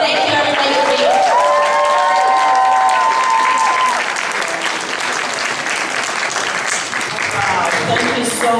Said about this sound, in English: Just give her another round of applause.